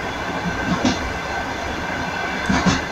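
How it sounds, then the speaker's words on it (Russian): Steady rumble of a moving train heard from inside the carriage, with continuous low rolling noise and faint periodic rail clicks, no voices over it. "Еду в поезде"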